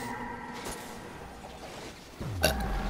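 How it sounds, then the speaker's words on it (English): A person gives a short, low burp after drinking milk during an Xbox One Destiny gaming session. It comes near the end of the clip, close to the microphone, above quiet background game sound. "Sorry if you heard that burp."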